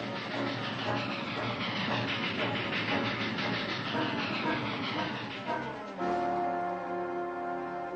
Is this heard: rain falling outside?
no